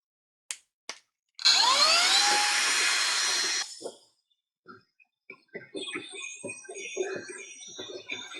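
A small budget vacuum cleans dust from a sewing machine and serger, giving a couple of clicks and then a steady high whine that rises in pitch for about two seconds before cutting off. Rattling handling noises follow.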